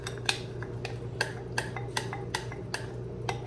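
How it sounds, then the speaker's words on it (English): A metal spoon stirs plain Greek yogurt in a bowl, making a series of light, sharp clinks at a regular pace over a low background hum. "A little stir."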